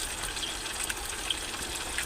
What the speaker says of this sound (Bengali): আগে একবার ধুয়ে নিয়েছি, আবার একবার ধুয়ে নিচ্ছি গাইস।